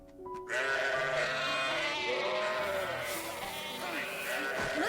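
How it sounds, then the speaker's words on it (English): Sheep in the anime Vinland Saga bleat repeatedly in overlapping wavering cries, loud and close, with faint background sounds beneath. "Oh, Thorfinn, could you go feed the sheep and milk the cow?"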